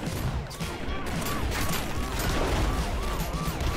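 Explosions and crashing blasts in an action roguelike video game, a burst of rapid booms layered with electronic whooshing sound effects and game music, continuous and fairly loud, with no speech.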